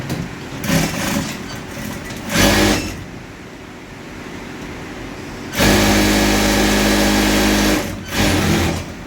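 A sewing machine stitches a tote bag in several bursts, some short and one long run, with a rapid, even whirring rattle and quiet pauses between the runs.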